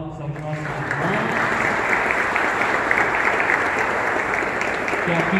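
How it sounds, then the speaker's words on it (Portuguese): Wedding guests give a round of applause for a late-arriving groomsman inside a church, a loud, steady wash of many hands clapping that starts just after a brief voice and holds throughout. "Uma salva de palmas ao nosso irmão"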